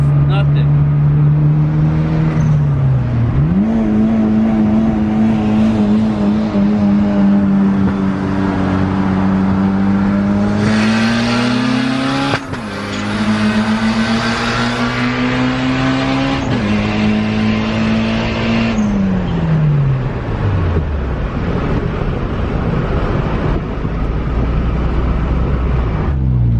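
Turbocharged Honda Civic EG race car accelerating hard, engine revving up through gears with brief drops at shifts and turbo whine, loud and close, with people talking over it.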